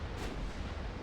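Naval main guns boom from a warship in Ultimate Admiral Dreadnoughts, one deep, rumbling blast that holds for about a second, loud and close with no voices.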